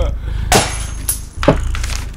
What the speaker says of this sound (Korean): 이 병 깨질 때 소리가 제일 좋다